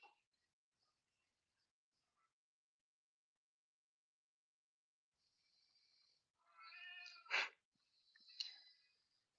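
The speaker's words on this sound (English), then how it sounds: "Kept hearing a cat." A house cat meows faintly indoors. After a long quiet stretch come a few soft, drawn-out meows and a brief sharper call near the end.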